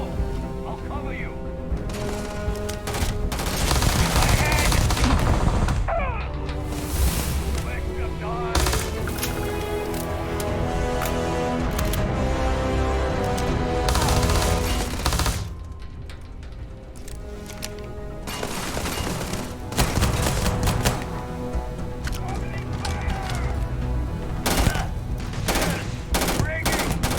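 Gunfire in a sci-fi firefight in Starfield: rapid bursts of automatic weapons and sharp single shots crackle through a loud, chaotic battle, with music and occasional voices mixed underneath.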